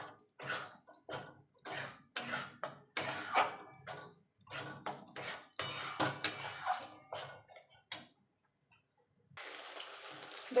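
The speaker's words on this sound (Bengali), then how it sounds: "এবার ভালো করে মিশিয়ে নেবো।" Spice paste being stirred in a pan over a low gas flame for a curd fish curry, heard as repeated scraping and clinking strokes of a spoon against the metal pan, close and moderately loud, with a brief pause near the end.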